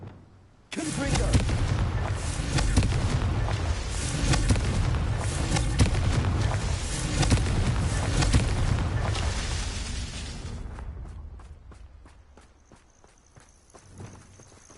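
A Confringo blasting spell in the Hogwarts Legacy video game fires a loud, continuous crackling barrage for about ten seconds, with thudding booms, before it thins into a few fading clicks.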